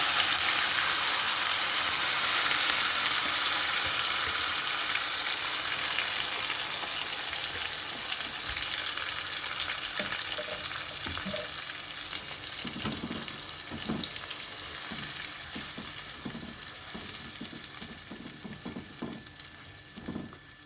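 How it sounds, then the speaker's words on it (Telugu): Ground masala gravy poured into hot oil with cumin and bay leaf in a kadai for a ridge gourd curry, sizzling loudly at first and gradually easing into a softer crackle, with scattered stirring scrapes and clinks later on. "ఇప్పుడు మనం మిక్సీ పట్టుకున్న గ్రేవీ వేసేసుకుందాం."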